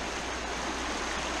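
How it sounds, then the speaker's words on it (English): A fast-flowing river in the western Lake District rushes with a dense, steady broadband roar of water, close and continuous, with no voices. "This is the beautiful River Leaser."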